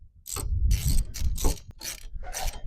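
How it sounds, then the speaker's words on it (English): A 15 mm socket ratchet works nuts off the windshield wiper arms of a 2004 Ford Taurus, giving several close, loud bursts of rapid ratcheting clicks separated by brief pauses. "I'm using a 15 millimeter socket to remove the two nuts."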